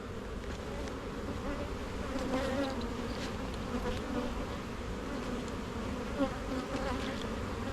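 Honey bees buzz in a steady, dense hum during a hive inspection, close and continuous with small swells and no talk.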